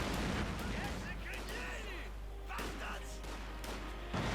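Artillery barrage in Company of Heroes 2, a dense wash of distant booming impacts and battlefield rumble with scattered crackling bursts, continuous and fairly quiet.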